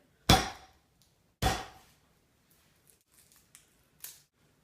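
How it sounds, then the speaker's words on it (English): Garlic cloves being smashed on a kitchen board: two sharp, loud thwacks about a second apart, followed by faint small rustles and taps of peeling and a final lighter knock. "you're going to want to smash and peel some garlic"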